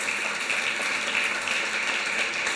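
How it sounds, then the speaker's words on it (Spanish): A church congregation claps in steady, dense applause that fills the room for a couple of seconds, with no voices over it. "Aplaudimos al Señor por la vida de ellos."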